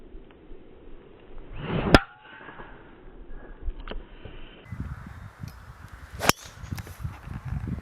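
A golf club strikes the ball with a sharp, crisp crack during a practice swing outdoors, followed later by a second similar impact over low wind and ambient noise.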